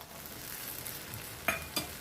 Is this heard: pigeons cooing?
no